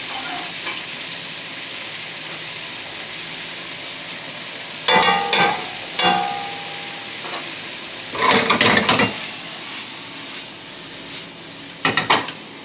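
Leeks frying in butter with seasoned pork bits in a pan: continuous sizzle with several bursts of spatula scraping and clinks against the pan as everything is stirred, close up and without talk.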